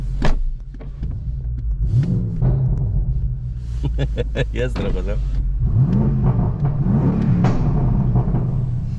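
A limited First Edition BMW, one of 400 built and tuned to 770 hp but on its stock exhaust, revs gently in two or three rising and falling blips over an idle, with people talking and laughing nearby.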